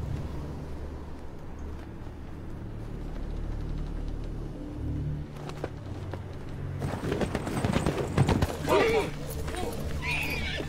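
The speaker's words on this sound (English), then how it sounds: "That's my Uncle Benjamin's horse" Horse hooves clip-clop and a horse whinnies in a Game of Thrones scene, with a low rumbling background and a burst of louder, closer activity near the end, under a voice speaking.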